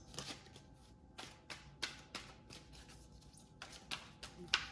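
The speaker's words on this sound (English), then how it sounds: "These cards are so hard to shuffle sometimes." Repeated papery riffling and soft slaps of a deck of tarot cards being shuffled, several quick bursts close by in a quiet room.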